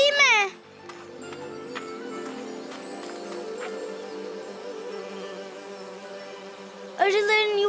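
A cartoon bee hums in a steady, thin buzz in a Niloya children's cartoon, with a voice talking just before and after.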